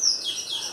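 A small bird, a pet caught and brought indoors into a home kitchen, chirps in a quick run of high, thin tweets that stay steady and close.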